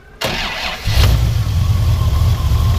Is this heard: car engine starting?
yes